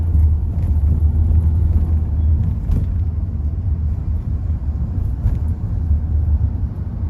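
A Kia Sonet diesel automatic drives at normal pace, its cabin filled with a steady, loud low engine and road rumble, with occasional faint knocks and no voices.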